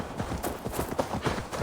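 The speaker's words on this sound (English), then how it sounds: "Travel by horse." Horse hooves clip-clop in the Assassin's Creed Valhalla video game, a steady rapid run of hoofbeats over a busy low background of in-game ambience, moderately loud and continuous.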